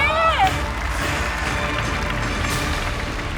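A studio audience on a Thai code-breaking game show breaks into steady, sustained applause that fills the room, with a brief musical sting at the start.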